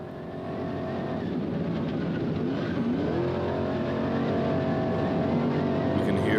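Front-engine all-wheel-drive Herbst trophy truck racing in the Baja 1000, its engine roaring loud and close with a steady, rising drone as it works hard across the desert course.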